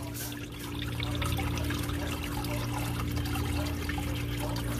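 Old coolant drains out of the radiator of a 2015 Corvette C7 Stingray during a coolant change, a steady close trickling and splashing of liquid that runs continuously with no talking.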